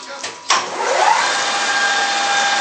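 Birmingham lathe spinning up to 800 RPM, a sharp start followed by a steady, loud whirring hum with a rising whine that settles into a constant tone.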